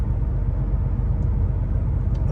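Steady low rumble of a truck driving at speed across the German-French border, a constant road and engine drone heard from inside the cab.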